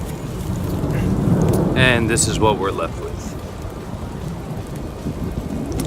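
Rain falls outdoors on a plum tree during grafting work, a steady broadband wash with possible low rumbles, while someone talks over it near the start.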